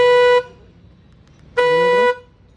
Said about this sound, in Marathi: हॉर्न वाजणार आहे